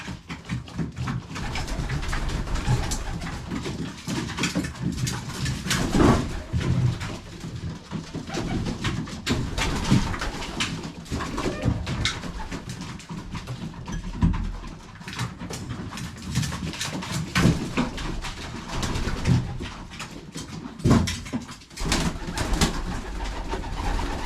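Pigeons coo repeatedly in soft, throaty, rolling calls from several birds close by, layered over a steady background hum with no talking.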